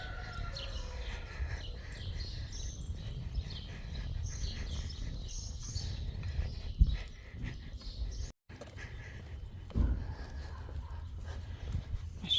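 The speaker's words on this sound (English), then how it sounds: "You can hear all those beautiful birds." Birds chirp and call outdoors in Mexico on garbage day over a steady low rumble of traffic or street noise, with scattered thuds and a brief dropout near the end.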